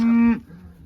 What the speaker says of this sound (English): I bring these cows up, we're gonna haul them out to a millet blend field.